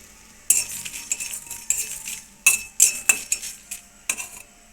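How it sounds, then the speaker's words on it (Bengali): Dry red chillies are stirred and fried in a metal pan, with a utensil scraping and clinking against it in irregular close knocks and a soft sizzle beneath, no talking. "দুটো দিয়ে দিলাম। এবার এটা ভালো করে নেড়ে চেড়ে ভেজে নেব।"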